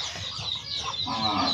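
Brief, close clucking from farm chickens and ducks in a winter shelter, steady and fairly soft with no speech over it.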